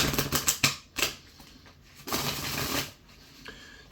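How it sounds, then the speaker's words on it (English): Tarot cards riffle and slap as a deck is split and shuffled, a quick burst of crisp clicks followed by a longer papery riffle and a final soft tap, close and alone. "I split the deck here"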